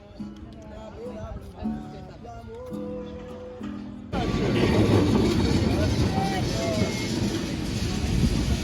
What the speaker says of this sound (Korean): 트램 계속 지나다녀.